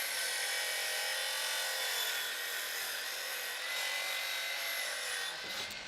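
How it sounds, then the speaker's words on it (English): A power saw cuts a miter on a wooden gutter piece during a house renovation, giving a continuous, close, high-pitched whine for about six seconds that eases off at the end. "Now we can cut that miter."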